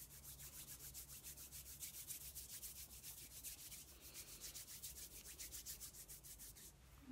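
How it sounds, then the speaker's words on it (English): Hands rub briskly together with fingers interlaced, a soft close rhythmic swishing friction repeating evenly for several seconds, heard alone with no voice over it. "Rub your hands together, interlacing your fingers."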